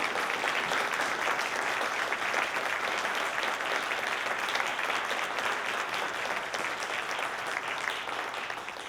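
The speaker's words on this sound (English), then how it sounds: "Can we have a round of applause for all of our candidates?" An audience applauding the candidates at a candidates' night forum, with steady, dense clapping that holds for the whole stretch without a break.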